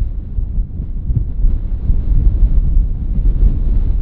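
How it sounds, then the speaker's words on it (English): Strong gusting wind on a golf course at North Berwick, buffeting the microphone with a low, rumbling roar that swells and stays loud throughout, no talk. "The wind has really picked up here now."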